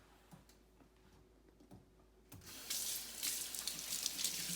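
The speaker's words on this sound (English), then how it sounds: "First thing we do is wash our hands." A kitchen tap is turned on partway through and runs loudly as hands are washed under the stream. Quiet ticking comes before it, and the splashing carries on steadily to the end.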